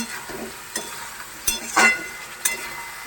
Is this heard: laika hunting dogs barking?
no